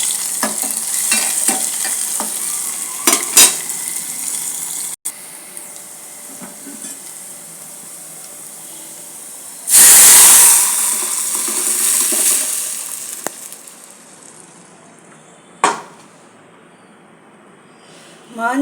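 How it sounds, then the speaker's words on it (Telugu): Tempering spices crackle and sizzle in hot oil for a tangy tomato, coriander and tamarind dal, with a loud burst as the tempering hits, easing into a steady fry with a few utensil clinks. "బాగా తిరువాత వేస్తున్నది ఇప్పుడు"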